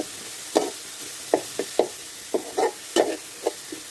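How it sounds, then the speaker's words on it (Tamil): A utensil scrapes and taps against a frying pan in a loose rhythm of short strokes, about a dozen over a few seconds, stirring curry leaves under a faint sizzle. "இப்போ வந்து கருவேப்பிலை சேர்த்துட்டு தடவை கிண்டி விட்டுக்கலாம்"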